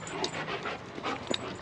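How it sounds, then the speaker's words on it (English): Dogs panting outdoors, several close breathy pants in a steady continuous rhythm with a few soft whimpers mixed in, fairly loud and without talk. "Yes, my dogs are out already"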